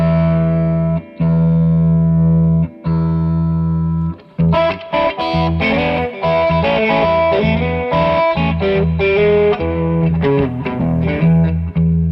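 A heavily distorted electric guitar through a Rat-style distortion pedal on its top clipping setting holds a low chord with a few short stops, then breaks into a loud, choppy riff of crunchy notes.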